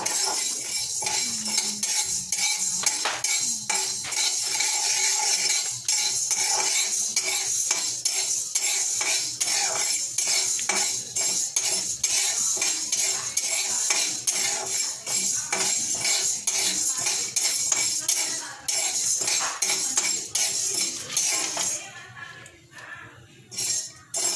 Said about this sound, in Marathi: साबुदाणे भाजून घेऊया.